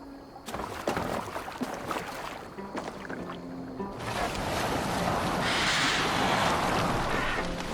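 Boat gliding across open water in Assassin's Creed Valhalla, a steady wash of waves and wind that swells louder after the first few seconds, with faint creaks and splashes early on.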